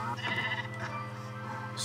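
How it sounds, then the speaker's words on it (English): Sheep bleating in the video game Minecraft, a short wavering bleat followed by a second fainter one over a low steady background hum. "you heard that little clickety sound of the sheep"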